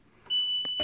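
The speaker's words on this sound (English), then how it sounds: "So we've got two alarms going off yet." Alarms on a Case IH 895 tractor sound as a sustained high electronic tone with short beeps cutting in around it, close and fairly loud.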